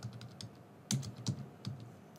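Keys clatter in quick, uneven bursts as a short name is typed on a computer keyboard, with a few sharper, louder strokes standing out against a quiet room.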